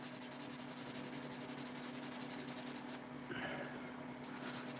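A custom Buck 110 knife is hand sanded with a steady, continuous rasping rub, fairly quiet and close, with a brief change in texture near the end.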